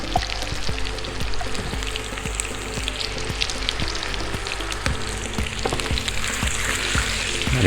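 Potatoes fry steadily in a hot pan at a brasserie, a continuous close sizzle with scattered small pops and crackles and no voices.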